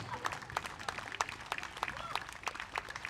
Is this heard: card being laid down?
no